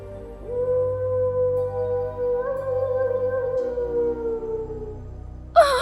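A long, drawn-out wailing tone, like a wolf howl or monster cry, sustained for several seconds with a slight pitch rise in the middle, followed by a brief noisy burst at the end.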